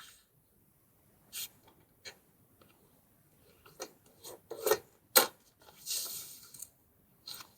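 Sheets of paper folded and creased by hand for an origami pouch, heard as a sequence of short, quiet crinkles and sharp scraping crease strokes separated by pauses, close up, with no talking.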